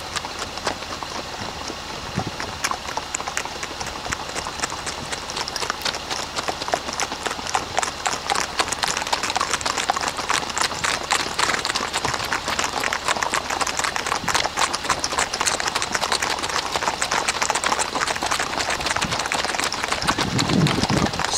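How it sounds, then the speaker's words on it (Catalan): A herd of Icelandic horses trots along a road, the hooves making dense, continuous clip-clop that stays loud and steady throughout, with many overlapping footfalls close by. "Al mig de la carretera se'ns ha presentat esta manada de cavalls."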